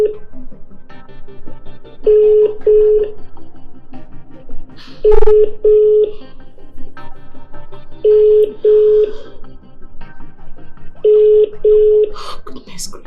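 An unanswered phone call in a Nigerian drama scene: a ringback tone sounds in repeated double pulses about every three seconds, fairly loud, while voices talk over it.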